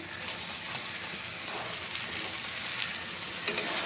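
Marinated mushrooms fry with a cooked-down spice masala for mushroom curry, a steady close sizzle with soft crackle that holds evenly throughout, with no talking.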